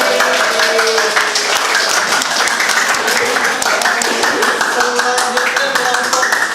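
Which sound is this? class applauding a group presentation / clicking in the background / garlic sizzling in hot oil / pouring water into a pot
class applauding a group presentation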